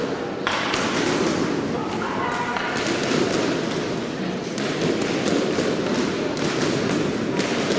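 Hurling ball struck against a ball alley wall in repeated shots, sharp thuds and taps landing at an uneven pace over a steady noisy background, with voices talking.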